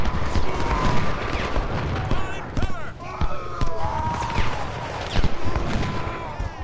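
Constant battlefield gunfire from the Civil War video game Ultimate General, dense crackling musket volleys and thuds rolling on without pause, loud and continuous.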